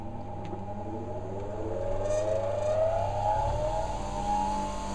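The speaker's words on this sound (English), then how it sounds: "just turn the grinder on and show you how I do a spindle gouge" A bench grinder runs for sharpening a woodturner's spindle gouge, giving a steady tonal hum and whine that rises slightly in pitch and holds at an even level throughout.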